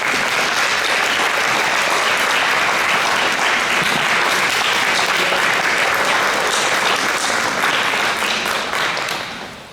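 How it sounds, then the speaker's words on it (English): An audience at a community gathering in Social Circle applauds an honoree with dense, sustained clapping that fills the room for about ten seconds before tapering at the end. "let's give Randy a round of applause"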